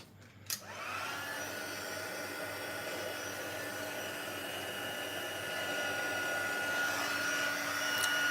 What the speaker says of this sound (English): I'm just going to heat with the heat tool until it goes and melts.